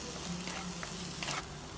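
A curry paste of ground green chillies, with chopped curry leaves for egg malai curry, sautéing in a pan over a gas flame: a steady, soft sizzle with faint stirring scrapes and no talk.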